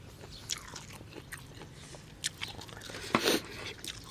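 Someone eating bitter raw vegetables served with steamed tilapia and a chili dip, heard as close, crisp bites and crunchy chewing with a louder crunch near the end, in an otherwise quiet room.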